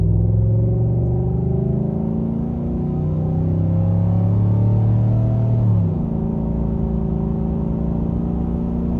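A 2021 Chevrolet Silverado pickup engine drones and rises in pitch as it accelerates onto a highway, drops briefly at a gear shift, then climbs again, steady and close without talk.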